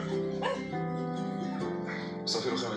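A dog that was wounded in Gaza gives whining, whimpering yelps with tonal cries and short bark-like bursts, close and fairly loud, over about three seconds.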